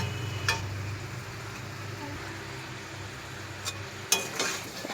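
Chicken and potatoes sizzle softly as they sauté in spices in a pan, a low continuous frying hiss punctuated by a few sharp clicks of a utensil against the pan.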